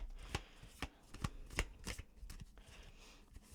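Tarot cards are shuffled by hand in short crisp bursts, several sharp riffling snaps spaced about half a second apart, close and fairly quiet, with no talking.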